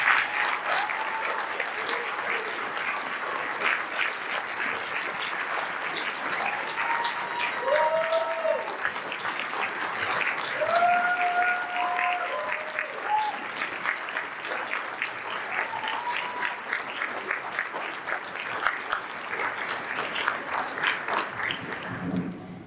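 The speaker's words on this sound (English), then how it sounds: "can you please join me in a round of applause for the phenomenal" Sustained audience applause at a town women's recognition awards evening, steady and fairly loud clapping from a sizeable crowd filling the room for over twenty seconds, with occasional faint voices and cheers mixed in.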